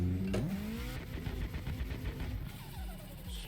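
Car engine in the Assetto Corsa driving game during a drift, a steady mid-pitched engine drone with shifting tones and a brief rising rev near the start.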